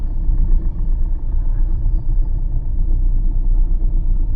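A car drives through city traffic at night, with a steady low engine and road rumble heard from inside the cabin and no distinct events.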